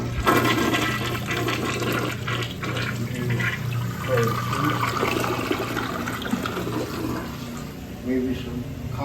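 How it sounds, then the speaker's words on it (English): Toilet flush inside a home bathroom during a property inspection, a steady continuous rush and swirl of water running throughout, fairly close and filling the room, with no one speaking. "toilet flushes"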